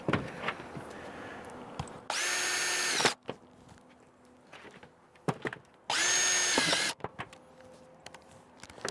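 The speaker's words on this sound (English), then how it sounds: "we're just going to add 2 screws on either side to hold it, mechanically hold it together" Power drill driving screws to fasten Solatube SolaMaster 750 tube sections together, two loud sustained whirring bursts of about a second each, separated by quieter handling clicks and rustling.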